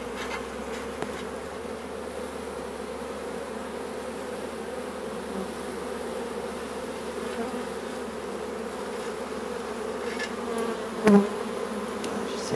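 Bees buzz steadily around a beekeeper at an apiary with hives nearby, a continuous close drone holding throughout, with a brief louder pass near the end.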